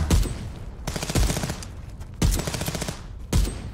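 Pistol fire in the police video game Contraband Police comes as four sharp, loud bursts of rapid shots, spaced about a second apart, with brief quieter gaps between them.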